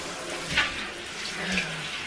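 Water runs from a tap into a bathtub to bathe puppies, a steady close splashing stream lasting the whole clip with a couple of small louder splashes.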